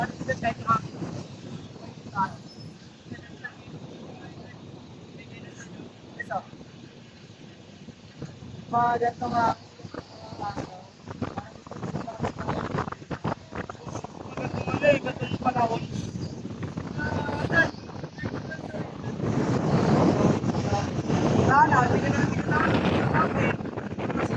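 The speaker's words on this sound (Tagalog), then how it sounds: "ang lakas ng hangin dito" Gusty wind buffets the microphone throughout at a dolomite sand beach, swelling stronger toward the end, with no talking.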